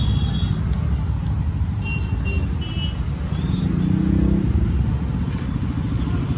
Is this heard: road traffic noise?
yes